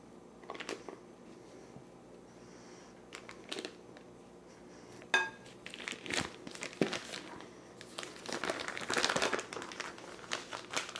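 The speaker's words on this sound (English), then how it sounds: "use the plastic wrap to wrap it really tightly before we put it in the freezer" Plastic wrap crinkles in bursts while being pulled tight around a piped log of meat filling for Dutch frikandel before freezing, with sharp crackles and a denser rustling stretch near the end, close by and with no talk.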